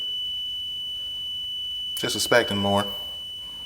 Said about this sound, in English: this smoke detector is still working while it's submerged in water